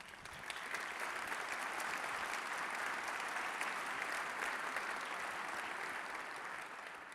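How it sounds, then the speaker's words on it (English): Dense, sustained applause from a large conference audience fills the hall evenly from start to finish without a break. "Please give him a big round of applause."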